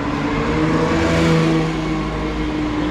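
A Porsche Speedster sports car rolling in at a Cars & Coffee meet in Monaco, its engine giving a steady, fairly loud mid-pitched hum that rises slightly and then eases, with no voices.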